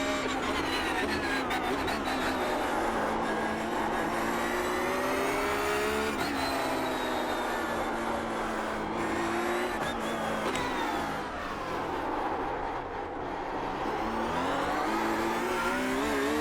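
A race car engine in iRacing revs and shifts continuously, rising and falling in pitch through gears and corners, loud and steady with no pause.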